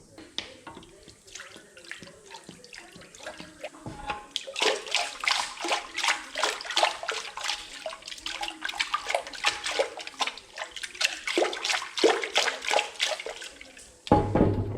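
Oil sloshing inside an original car oil pan being shaken vigorously, a run of repeated splashy surges that starts gently and grows loud and rhythmic after a few seconds, close to the microphone.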